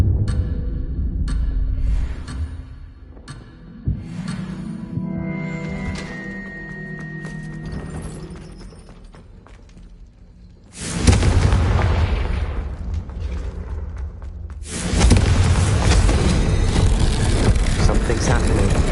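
The Confringo blasting spell in a Harry Potter video game sets off heavy booming explosions, two loud broadband blasts arriving back to back after a stretch of rumbling, clanking game sounds with speech mixed in.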